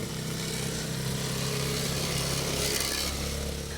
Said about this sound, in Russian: Утреннее спокойствие нарушает звук мотора.